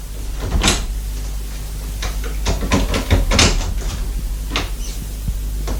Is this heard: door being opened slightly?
yes